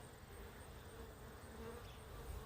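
Honey bee swarm near a hive, a dense, steady buzzing hum that fills the clip evenly, fairly faint and continuous with no voices.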